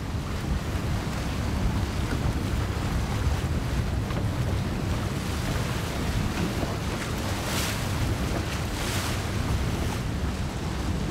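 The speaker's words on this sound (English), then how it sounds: "Oh, here comes the ferry, taking some people over." A small passenger ferry carrying about nine people crosses a lake, its low hum blended into steady lapping waves and heavy wind rumble for about eleven seconds, with no voices.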